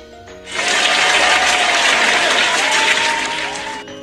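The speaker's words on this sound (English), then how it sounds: "Give yourselves a round of applause." A class of students clapping for themselves at the end of an evening lesson: a loud, dense round of applause that starts abruptly, holds steady for about three seconds, then fades and cuts off.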